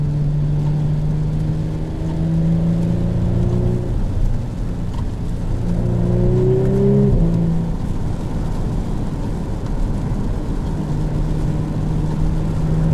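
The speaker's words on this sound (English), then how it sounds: "there are burbles back there from the exhaust" Engine and exhaust of a 2018 Audi S4 with a V6, heard from inside while driving: a steady low drone with a rising rev around the middle, with soft exhaust burbles underneath and no talking.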